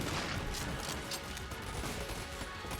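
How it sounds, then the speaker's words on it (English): Dense, continuous gunfire and explosions from the bullet-hell game Enter the Gungeon, a loud chaotic barrage of rapid shots and blasts filling the whole stretch without pause. "There's shots bouncing around, there's curving explosions happening."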